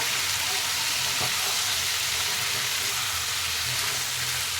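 Carrots, peas and potatoes frying in a wok give a constant close sizzle over high heat, with soft stirring scrapes underneath and no speech.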